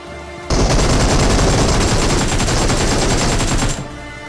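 Loud sustained burst of rapid gunfire with shotgun blasts in the mobile battle-royale game PUBG Mobile, a dense fusillade running about three seconds before cutting off abruptly.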